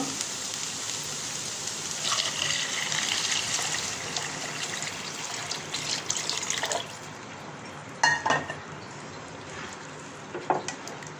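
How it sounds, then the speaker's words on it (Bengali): About three cups of water are poured into a pan of fried red lentils, a close, splashing gush for several seconds that gives way to softer trickles and a few drips, with no talk. "এখন আমি পানি দিয়ে দেব।"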